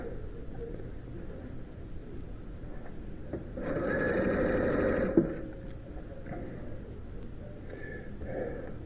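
A sewing machine runs in one short burst of steady whirring stitching through a quilt, close and moderately loud, lasting about a second and a half, set against quiet room noise with a small knock as it stops.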